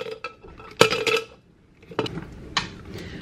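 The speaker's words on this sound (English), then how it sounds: "Put some ice in." Ice cubes tossed into a smoothie blender along with collagen, making a few loud, close clattering bursts of hard pieces clinking against the container, then quieter rattles.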